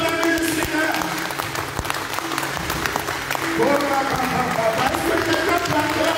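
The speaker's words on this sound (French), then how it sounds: "Est-ce que quelqu'un peut acclamer le Seigneur?" A church congregation applauds and cheers in praise of the Lord, steady sustained clapping with raised voices throughout, loud and close, with shouts rising over the applause toward the end.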